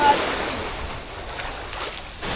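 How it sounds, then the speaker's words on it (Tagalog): Ocean waves at Paysawan Beach in Bagac, Bataan, rising at high tide, a steady close wash of surf mixed with wind noise on the microphone. "Lumalakas na yung alon mga idol."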